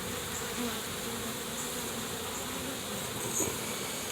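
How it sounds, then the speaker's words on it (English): A dense, steady insect buzz hums throughout, like many bees swarming close by, with no voices. "as you can tell, there's a bunch of bees still in there."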